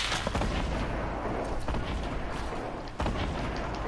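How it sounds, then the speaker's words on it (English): Gunfire in the Fortnite video game: dense, loud, booming shots blur into a continuous rumble, with a sharp crack standing out near the end. "we're getting sniped at"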